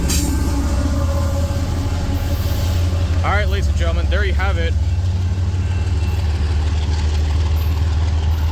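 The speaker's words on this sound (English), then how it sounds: "Those are some loud diesels" A loaded CSX coal train with distributed diesel locomotives passes through curves at Morgan Station, a loud continuous diesel roar and wheel rumble throughout, with someone talking briefly over it.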